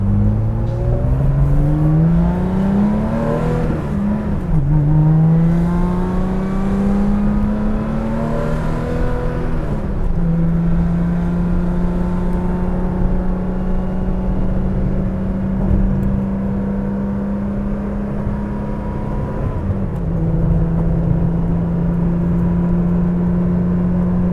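A 1983 Porsche 911 3.2 drives along, its engine droning loudly and rising in pitch as it accelerates, with quick dips at each gear shift before settling into a steady cruising hum, heard from inside without talk.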